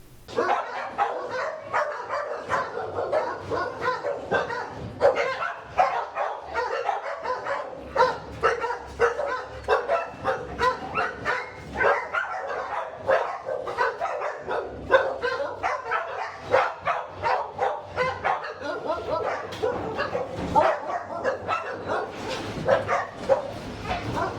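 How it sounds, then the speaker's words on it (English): Many dogs barking and yipping at once, a dense continuous chorus of overlapping barks at moderate distance, with occasional whines mixed in. "I think I'm going to hear barking in my sleep."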